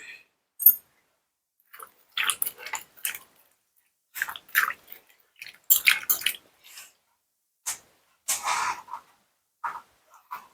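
Crunchy, wet chewing of cucumber apple salad up close, coming in separate bursts with short silent pauses between them.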